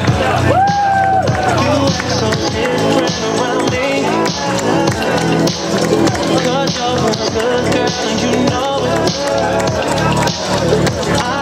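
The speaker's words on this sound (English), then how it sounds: "Allez, on l'applaudit." Spectators at the 2013 Canada Army Run cheer and clap steadily for a runner reaching the finish line, a loud dense crowd noise with scattered claps and voices throughout.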